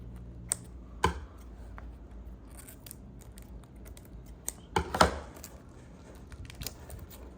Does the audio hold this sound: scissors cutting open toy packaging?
yes